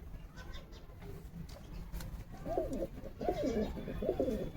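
Pigeons in a loft coo in several low, rolling calls that grow louder toward the end, with someone talking faintly in the background.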